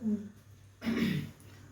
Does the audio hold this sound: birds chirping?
no